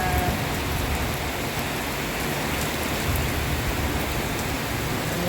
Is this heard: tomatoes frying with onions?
no